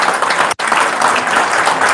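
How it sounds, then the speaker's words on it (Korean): Sustained applause from an audience, dense and steady, with a brief break before the clapping resumes. "큰 박수 부탁드리겠습니다."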